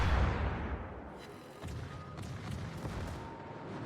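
Naval gunfire from warships in the online game World of Warships, with a heavy boom at the start followed by a run of rumbling distant gun salvos and sharp reports, without any voice.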